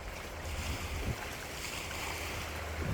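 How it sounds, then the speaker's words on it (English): Wind gusting across an open lake shore at a state park, a steady broadband rush with low rumbling buffets on the microphone and a soft wash like distant waves throughout. "Not a good kayaking day unless you really like the wind."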